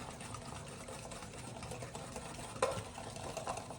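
Molasses cookie batter is stirred in a bowl, giving a soft, continuous whirring mix sound with a faint knock or two near the end, close and quiet with no talking.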